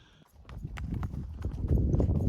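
Several horses chew and shuffle close by in a mountain camp before dawn, eating packed-in hay cubes, with irregular crunching and hoof clops building steadily in loudness across the moment.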